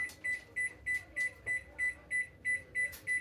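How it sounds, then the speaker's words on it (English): An oven timer beeping steadily, about a dozen short evenly spaced electronic beeps, moderately quiet over a faint background hiss. "I'm going to go ahead and set the timer for 25 minutes."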